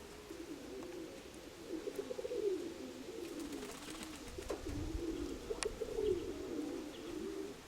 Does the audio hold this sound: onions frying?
no